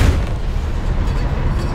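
Tank gunfire and a shell explosion in the video game War Thunder, with a Tiger tank as the target, heard as a loud, sustained low rumbling boom that carries through the whole moment.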